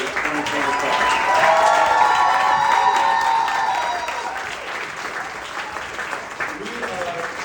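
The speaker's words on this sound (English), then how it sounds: "How about a big round of applause for our new grade 8 2025." A ceremony crowd gives a big round of applause, a dense wash of clapping with some cheering and voices on top, swelling early and then tapering to a lighter patter.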